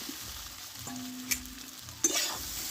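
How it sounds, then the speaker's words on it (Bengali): Potatoes and soybean chunks going into a pan of frying spices bring a steady sizzle, with a couple of sharp clinks and a brighter burst of frying as they land, close up. "এবার কষে রাখা আলু আর সোয়াবিনটা আমি ঢেলে দেবো"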